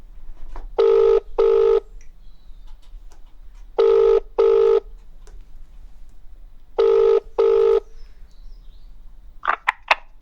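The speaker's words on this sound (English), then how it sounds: "Let's ring Gavin." Telephone keypad tones sound in three short bursts of paired beeps, evenly spaced and fairly loud, followed by a brief click and the start of a ringing tone near the end, with no talking.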